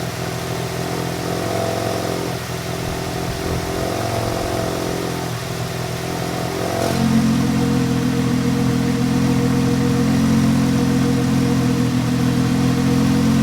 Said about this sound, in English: that's the sport exhaust, and it has a much deeper tone than it did before